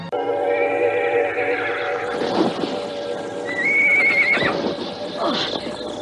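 A horse neighs in a dramatized audio drama scene, loud close whinnies rising and falling over several seconds with hoof clip-clop and background effects beneath.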